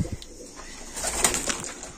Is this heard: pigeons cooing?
yes